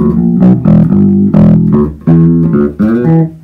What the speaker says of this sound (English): Onto the bridge pickup.